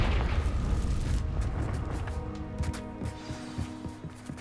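Confringo fire spell cast in Hogwarts Legacy, a deep booming blast that rolls on with rumbling low crackle and a few sharp pops trailing off.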